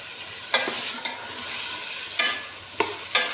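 Mixed vegetables with kasuri methi fry in a pan under a steady sizzle, broken by four or five sharp scrapes as a spoon stirs them. The sound is close and there is no talk.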